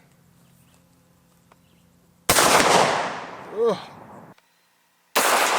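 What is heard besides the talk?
12-gauge shotgun firing 1-ounce hollow point slug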